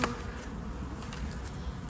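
Honeybees buzz steadily at an opened beehive during winter hive work, a continuous close, even hum with no talking.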